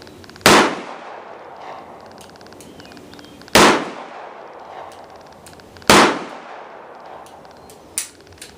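A Smith and Wesson .357 magnum revolver firing light loads at a range: three sharp, loud reports spaced a few seconds apart, each with a short ringing decay, and a fainter pop near the end.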